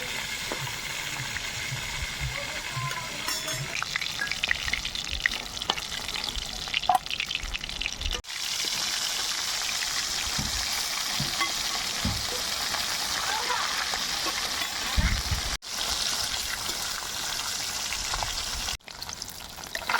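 Fish fry in oil in a wok, a loud, continuous close-up sizzle and crackle lasting throughout, with occasional clatters, brief abrupt cuts, and some speech in the background.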